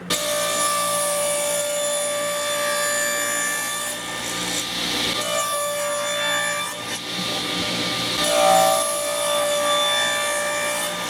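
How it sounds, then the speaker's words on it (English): Steady rasping saw cutting strips from a glued walnut and maple board for a tabletop coin toss game, a continuous loud woody grind with brief dips in between strokes, no voices. "I'm going to cut a little more than ½ an inch off either side"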